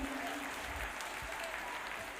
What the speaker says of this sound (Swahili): Si tuwapigie makofi mazuri.